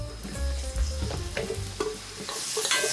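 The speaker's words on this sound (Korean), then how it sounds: "여기도 버섯을 먼저 구워주세요." Mushrooms frying in cooking oil in a pan over medium heat, a steady close sizzle with occasional stirring scrapes and clicks, no voices.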